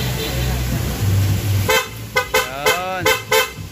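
A loud aftermarket PIAA car horn honks in a series of short, loud blasts after an idling engine and brief talk, the toots sharp and evenly spaced.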